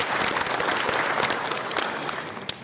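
Applause from a lecture audience, a steady, dense round of clapping that fills the room and carries on without a break.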